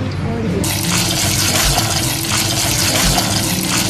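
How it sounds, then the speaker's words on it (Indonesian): Shredded oyster mushrooms are washed under running tap water in a sink, a steady loud splashing and gushing stream close by with brief soft thumps, with a voice talking over the water. "Ini setelah disuir jamurnya dicuci ya."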